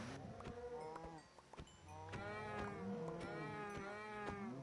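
Minecraft cows moo repeatedly in a pen, several overlapping drawn-out moos close by, some bleating tones among them, over a steady low game hum.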